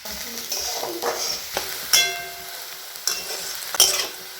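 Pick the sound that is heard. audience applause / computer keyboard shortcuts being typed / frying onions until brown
frying onions until brown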